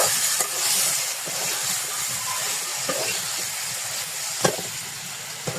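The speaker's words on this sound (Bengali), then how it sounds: "আলুটাকে ভালোভাবে নেড়ে নেড়ে আলুটাকে কষিয়ে নিতে হবে ডিম আলুর ঝোলের জন্য" Potatoes stir-fried in a spice masala for egg curry, a dense continuous sizzle and hiss from the pan with occasional soft stirring knocks, close and steady with no talk.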